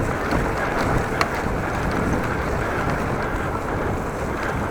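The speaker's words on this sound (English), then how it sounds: "But it was blowing quite hard," Very heavy wind roars across the microphone of a cyclist on a bike, a dense, steady low rumble and buffeting that fills the whole stretch with no voices.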